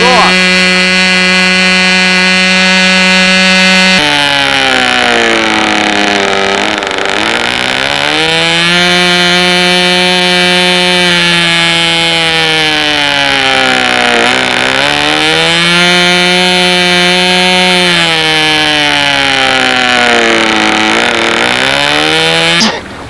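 Piston engines of a North American B-25 bomber running on test, a loud, steady, close roar with strong harmonic drone whose pitch rises and falls several times as the throttle is varied, filling the whole stretch without pause.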